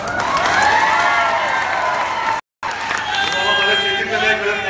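Dense, steady applause and crowd noise from a large audience at a Marathi political rally speech in Jalgaon, sustained and fairly loud throughout with a brief dropout in the middle.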